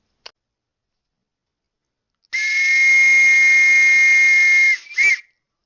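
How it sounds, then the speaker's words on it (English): A railway guard's single long, shrill whistle blast rings out after a brief click, steady for about two seconds, then a short second toot. "until he heard the guard's whistle"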